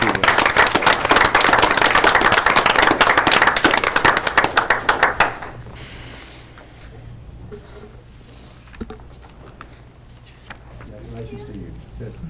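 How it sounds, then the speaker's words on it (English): At a school board meeting honoring a teacher of the quarter, sharp close-up claps ring out loudly for several seconds, then stop, leaving a low hum and quiet room sounds with murmured talk. "Give her a nice round of applause."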